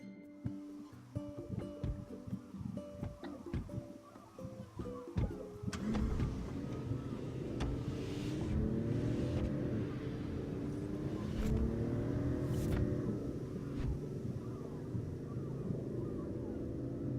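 Car engine droning steadily in Final Fantasy XV, starting after a few seconds of clatter and staying loud and continuous with wavering pitch, no talking.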